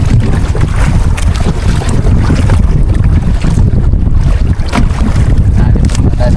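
Strong wind buffeting the microphone in gusty, low rumbling bursts over open sea near a payao fish aggregating raft, with no speech.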